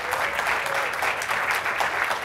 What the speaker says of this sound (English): So, you should totally just start applauding right now.